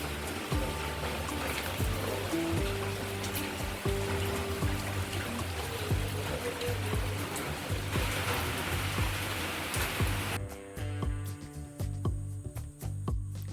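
Dense rain pours steadily, with scattered sharp drip impacts and a low hum underneath, thinning out toward the end.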